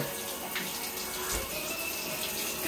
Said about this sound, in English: Who's showering with little Happy?